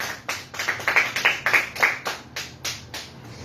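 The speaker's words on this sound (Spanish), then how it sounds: "Dale un aplauso al Señor si lo quieres aplaudir." A congregation claps together in a quick, steady rhythm for a few seconds, the claps loud and close, fading slightly toward the end.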